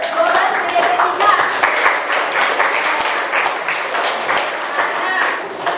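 Students in a classroom applaud, a dense burst of many hands clapping that carries on for several seconds, with voices mixed in.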